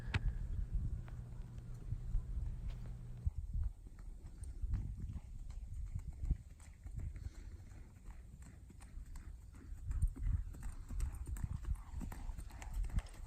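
Hooves of a two-year-old horse clip-clop steadily through a training session, a repeated rhythmic beat of fairly close footfalls, continuing without talking.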